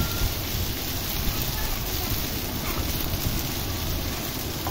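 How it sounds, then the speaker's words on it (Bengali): Chopped onion, garlic, lentils and chili frying in a pan, a loud, steady, dense sizzle with no break, and someone talks over it. "পেঁয়াজ কুচি, রসুন কুচি, মসুরের ডাল আর মরিচ কুচি। এটাকে হালকা করে ভেজে নিতে হবে।"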